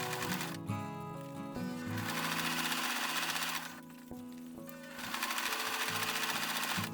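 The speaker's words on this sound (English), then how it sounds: "what I'm going to do is sew all the way down." A sewing machine stitches down the length of small gnome jeans, giving a loud, close, fast mechanical whirring with a rapid needle rhythm. It pauses briefly twice and then resumes.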